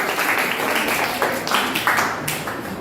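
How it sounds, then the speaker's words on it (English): Applause for a team at a school maths quiz event, a crowd clapping steadily in a room with dense overlapping claps, moderately loud and continuous with slight swells. "give them a round of applause"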